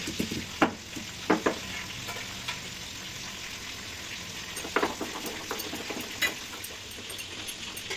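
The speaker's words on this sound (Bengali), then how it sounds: "আদাগুলো বেটে নিচ্ছে" Ginger being ground into a paste for a mutton jhol, with rhythmic scraping and grinding strokes punctuated by a few sharp knocks, close and moderately loud, with no talking.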